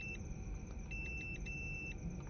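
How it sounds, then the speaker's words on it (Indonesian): A continuity buzzer tester beeps while probing the B+ power line of a dead Sharp Picolo 21-inch TV, giving a steady high tone that cuts out in short gaps over a constant low electrical hum. "Saya tes pakai buzzer."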